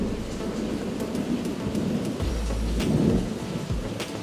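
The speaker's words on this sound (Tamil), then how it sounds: "சவுண்டுலேயே உங்களுக்கு தெரிஞ்சிருக்கும் செமையான இடி, செமையான மழை அப்படின்றது." Heavy rain pours steadily while thunder rumbles low and deep through the middle, with a few sharper cracks over a constant loud hiss of falling water, no voices.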